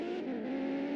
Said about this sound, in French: au niveau des bruits de véhicules, là, c'est un petit peu plus aigu